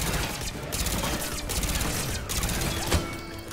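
Rapid burst gunfire from a Mass Effect 3 battle, a dense continuous rattle of shots with thumps and mechanical clanks, loud and close throughout.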